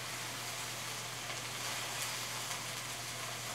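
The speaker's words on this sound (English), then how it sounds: "Give that a little stir." Cabbage and tofu stir-fry sizzles softly in a pan as it gets a quick stir, a faint, even hiss close by over a low steady hum, with no talking.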